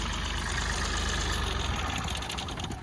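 A Mahindra TUV300 T8 (2017) engine idles with a steady, slightly knocking rumble, heard up close with no talking.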